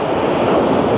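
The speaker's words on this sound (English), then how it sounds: "You can just hear the power of the water" Powerful ocean surf rumbles and washes continuously at Baker Beach in San Francisco, a loud, steady roar of breaking waves with some wind noise over the microphone and no voices.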